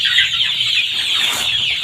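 Four-day-old chicks cheep and cluck together in a dense, continuous high-pitched chorus, steady and close, with no voices over it.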